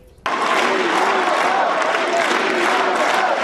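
A large enthusiastic crowd at a University of Hartford speech by President Obama cheers and applauds, a loud, steady roar that starts abruptly and holds throughout.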